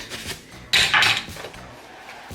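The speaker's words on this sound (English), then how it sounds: "So let me get my second cutting board out" A knife and cutting board handled in a home kitchen, a few close knocks and clatters of wood and metal, with a bright scraping clatter in the middle and a sharp knock at the end.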